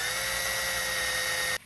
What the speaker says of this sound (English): we're using a valve stem in the end of a drill